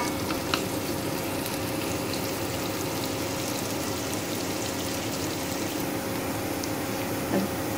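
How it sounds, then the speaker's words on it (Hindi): Onions fry in oil toward golden brown for okra curry, giving a steady, even sizzle with a faint hum, close and quiet, with no voices. "इसे हम प्याज को गोल्डन ब्राउन होने तक 3 से 4 मिनट तक फ्राई होने देंगे।"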